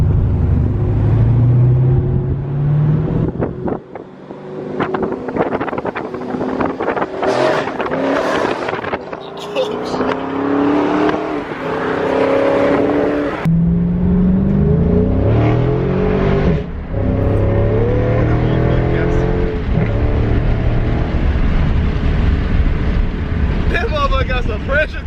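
Heard from inside the cabin, a 2019 Dodge Challenger Scat Pack's engine rumbles and rises in pitch through repeated accelerations, its revs climbing and falling over wind noise while passengers talk throughout.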